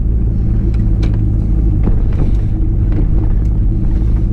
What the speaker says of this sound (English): See, now the truck's running fine.